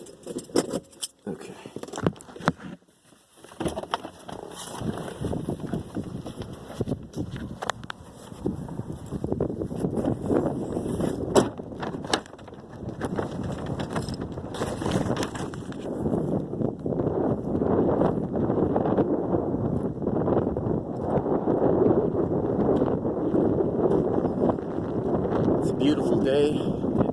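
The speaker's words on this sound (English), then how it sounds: "It's very windy." Strong wind blows outdoors on a cold, sunny day in the parking area by a police department, a steady broadband roar with gusty microphone buffeting, and a voice occasionally underneath.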